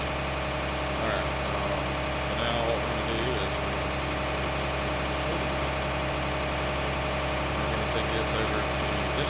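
Tractor engine idling steadily in Farming Simulator 19, a constant low hum at moderate volume throughout with faint background sounds.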